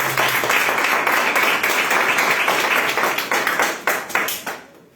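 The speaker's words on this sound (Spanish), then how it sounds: "Un aplauso al Señor." A church congregation breaks into loud, sustained applause right up close, dense steady clapping that thins into scattered claps and fades out at the end.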